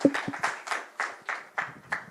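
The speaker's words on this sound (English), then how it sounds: "let's give Catherine a big round of applause" Sparse audience applause at a crypto and AI summit in Singapore, a few hands clapping in a loose, uneven rhythm, moderately near and fairly quiet, with a brief voice at the very start.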